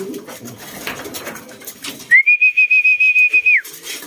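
Racing pigeons murmur and shuffle in a busy loft background, then a high, steady whistle-like call trills in rapid pulses for about a second and a half.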